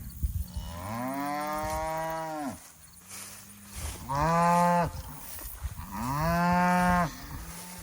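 Three long, drawn-out moos from American Murray Grey cattle on pasture, loud and close, with short pauses between them and faint outdoor background.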